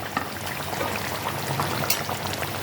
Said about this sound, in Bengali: তেলটা আমি এর মধ্যে দিয়ে দেবো